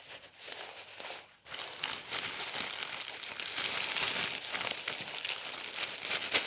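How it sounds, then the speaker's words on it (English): Dried leaves are pushed and rustled into a plastic bag, a soft, close crinkling and crunching that starts after a brief pause and continues steadily without speech. "I'm going to put those in a plastic bag I have ready"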